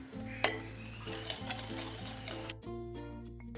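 Chicken marinade with chilli powder and three tablespoons of cornflour being stirred in a bowl, giving soft scraping and light clinks of a spoon against the dish, with one sharper knock near the start and a steady background hum.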